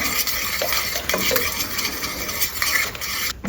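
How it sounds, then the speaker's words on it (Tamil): A spoon stirs urad dal porridge flour mixed with a little water in a bowl, giving continuous close scraping and wet swishing with light clinks, and no voices. "ஸ்பூன் மாதிரி போட்டு நல்லா கலக்கி விட்டுக்குங்க"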